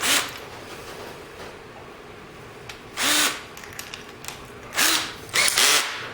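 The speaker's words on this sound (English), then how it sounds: "I'm going to put it in an extension driver in my drill" A cordless drill fitted with an extension driver bit spins up in short whirring bursts, with several quick pulses spaced apart, close and loud against quiet workshop background.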